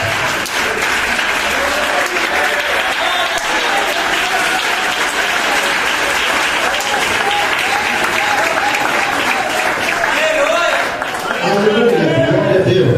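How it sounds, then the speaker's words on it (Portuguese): Church congregation applauding Jesus during a Portuguese-language worship service, a dense, steady roar of many hands clapping throughout, loud and close, with scattered voices mixed in. "dê uma bela salva de palmas a Jesus"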